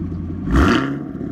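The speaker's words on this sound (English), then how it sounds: "start it up first. Let's hear your exhaust." A Chevrolet Camaro SS with a 455 engine and an NBRP axle-back exhaust gives a brief close rev, a rough rising swell over the steady idle that then settles back.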